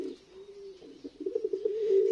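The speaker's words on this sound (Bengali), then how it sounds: "এই যে দেখতে পাচ্ছেন কবুতরটা, মাশাআল্লাহ খুব সুন্দর একটা কবুতর" A club pigeon coos at close range in a low, droning note that turns into pulsing, rolling coos toward the end, alone with no voices present.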